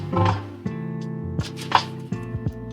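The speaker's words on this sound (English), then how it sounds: "the bacon and the chorizo is definitely starting to bubble, which is what I want" Bacon and chorizo sizzling hot in grease in a pan for duck rice, a steady crackle with sharper pops and spits, close and fairly loud, with no voices.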